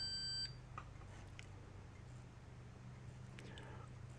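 A multimeter's continuity beeper gives a steady, faint electronic tone that stops abruptly early on, leaving only quiet hum and low background noise while a car fuse is tested.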